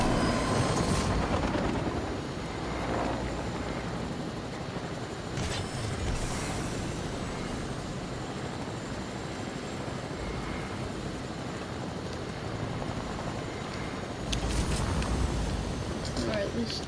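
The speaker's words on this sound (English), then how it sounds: "Let's just use this extremely weak chopper to get to the circle." A weak helicopter in a battle royale video game gives a steady, loud whirring drone throughout, with a few sharp bursts of in-game noise on top and a player talking over it.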